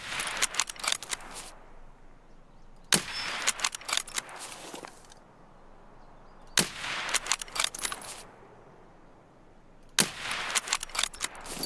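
Gunfire in the shooter SPT (Tarkov) comes in four separate clusters of rapid, crisp shots, each burst followed by a few seconds of quiet.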